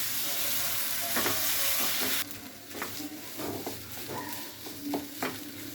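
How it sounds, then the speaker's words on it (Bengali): Spoon stirring mashed potato and bean bharta in a frying pan, with quiet sizzling and irregular scraping knocks against the pan close by. A loud hiss in the first two seconds drops away abruptly. "ভালো করে আমরা 1 মিনিটের মতো নাড়াচাড়া করে চুলো অফ করে দিব।"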